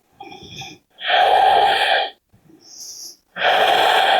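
Deep, slow breaths during a standing yoga session: three long, loud airy exhales and inhales close to the microphone, separated by short pauses, with a slightly wheezy hiss.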